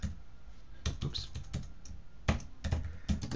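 Quick bursts of keystrokes on a computer keyboard as a name is typed, close and fairly quiet, with short pauses between clusters of taps.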